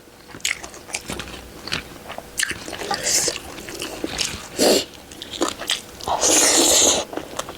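Close crunchy bites into crispy fried pork belly served with salmon tam sua salad, several sharp crackling crunches spaced out, then squishy chewing, no talking.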